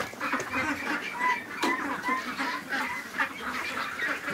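Ducks quack and chatter inside a shed, a steady cluster of calls close by, with one sharper squawk standing out midway.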